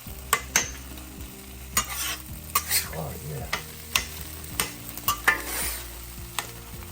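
Beef sizzles in a hot pan as Worcestershire sauce goes in, with steady frying hiss under repeated sharp scrapes and clicks of stirring; a voice briefly exclaims.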